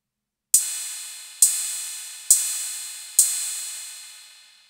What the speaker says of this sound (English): Cymbal.